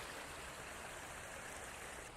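A Dartmoor river near Okehampton flows in a constant, even rushing babble, quiet and unbroken from start to end with nobody speaking.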